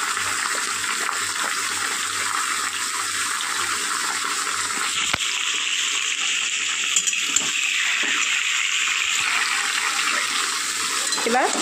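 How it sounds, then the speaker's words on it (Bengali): Mixed vegetables frying in a pan, a steady broadband sizzle throughout with a few soft clicks of a utensil, close and fairly loud, no voices. "এবার সবজিগুলোকে খুব ভালো করে ভেজে নেব।"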